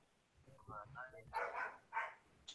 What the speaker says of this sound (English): Oh, there goes the dogs. The damn dogs. I don't know what they're barking about